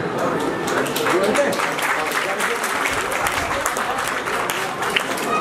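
Dense, sustained audience applause at a Bhagwat Katha during a flower Holi celebration, continuous and fairly loud throughout, with voices speaking over the clapping.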